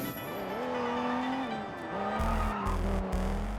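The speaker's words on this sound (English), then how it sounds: "I have to drive Ricky's fast car." Ricky's fast car in the video game Sleeping Dogs revs up and down with tires squealing, the engine pitch sliding through gear changes, loud and close, while thumping music beats come in during the last second and a half.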